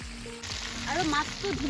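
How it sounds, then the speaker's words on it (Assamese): Fish frying in a small wok over an open wood fire, a steady sizzle that swells partway through, with crackle and a faint voice-like murmur in the background. "জুইত মাছটো ফ্ৰাই কৰি আছোঁ"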